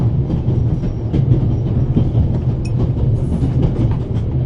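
A train running through the Swiss Alps in The Raven Remastered video game, a loud continuous low rumble with rhythmic rail clatter and faint metallic squeals.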